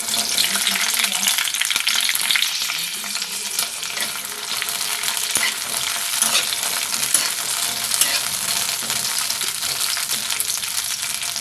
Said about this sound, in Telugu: పచ్చిమిర్చిని ఫ్రై చేసుకోవాలి వీటిని ఇలా చక్కగా ఫ్రై చేసుకోవాలి